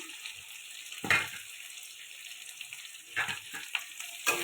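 Potatoes and green peas sautéing in spiced oil in a pan for a cauliflower, potato and pea curry: a low steady sizzle broken by three short, louder bursts of stirring and scraping, with no talking.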